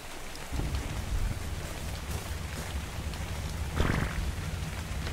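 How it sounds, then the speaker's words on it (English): Rain pours in the ARK: Survival Evolved game world, a steady broadband hiss with a few louder rumbling surges like distant thunder, continuous throughout with no talk. "Raining. I don't know if a fire's gonna be able to work in the rain."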